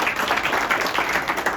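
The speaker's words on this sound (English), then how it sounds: "give him all the claps you can now" Audience applauding a county treasurer at a political gathering in Quincy, a brief, steady roar of many hands clapping close by, with no talking over it.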